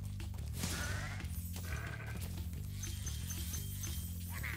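Sheep bleat in the Spyro Reignited Trilogy video game, with a few wavering calls rising over a steady game music bed at moderate volume.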